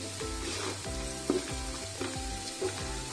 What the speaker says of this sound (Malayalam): സവാളയിലേക്ക് നേരത്തെ നമ്മൾ മാറ്റി വെച്ചിരുന്ന ബാക്കി ജിഞ്ചർ ഗാർലിക് പേസ്റ്റ് ഇട്ട് കൊടുക്കുക എന്നിട്ടൊന്ന് നല്ലതുപോലെ ഇളക്കുക